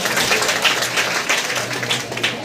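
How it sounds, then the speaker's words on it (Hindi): An audience in Indore applauds to welcome guests, a brief, moderately loud patter of many hands clapping at close range with no speech over it. "जोरदार तालियां बजा के आपका स्वागत करेंगे"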